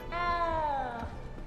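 In the video game Hogwarts Legacy, a cat lets out a single drawn-out meow, clear and close, its pitch sliding gently downward over about a second above soft background game ambience.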